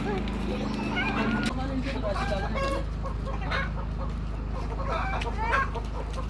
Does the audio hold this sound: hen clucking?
yes